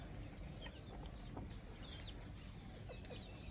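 Black-bone chickens cluck softly during evening feeding at a small farm, scattered faint calls over a steady outdoor background hiss.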